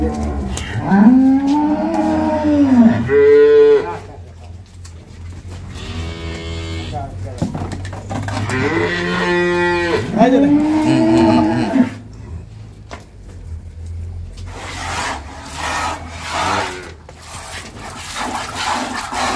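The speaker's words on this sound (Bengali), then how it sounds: "একবারে হলিস্টিয়ান ফ্রিজিয়ান গরু" Holstein Friesian dairy cows on a farm in Gazipur, several loud drawn-out moos in succession, close by, with people talking in between.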